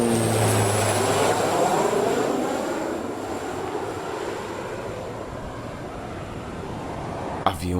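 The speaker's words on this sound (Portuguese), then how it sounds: "Aviões indo e vindo" Airplane engine drone over a Caribbean island, a steady broad roar holding throughout with surf and wind mixed in, ending in a brief sharp knock.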